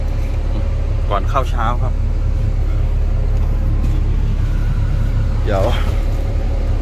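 Steady, loud diesel rumble of a Super Yao dump truck being driven on an early-morning shift, a constant low drone from inside the cab as someone talks briefly over it.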